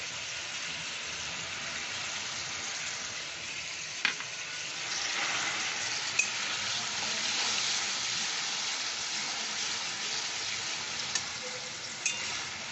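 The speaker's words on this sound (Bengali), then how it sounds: "এই যে টমেটো সসটা রেখেছি এটা দিয়ে দিচ্ছি কষার সময় দিয়ে দিচ্ছি" Brinjal masala with added tomato sauce fries in a pan for a sweet and sour brinjal dish, giving a continuous, moderately loud sizzle that swells midway and is dotted with faint clicks, with no talking.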